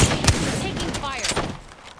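Gunfire in the Apex Legends battle royale shooter crackles through a dense, noisy mix, with sharp shot transients early on and a voice talking over the action.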